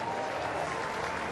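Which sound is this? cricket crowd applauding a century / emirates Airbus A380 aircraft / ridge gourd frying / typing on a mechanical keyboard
cricket crowd applauding a century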